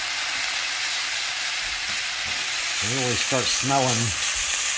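Italian sausage sizzles in a skillet for a rice dinner, a constant close hiss of frying, while someone speaks briefly over it near the end.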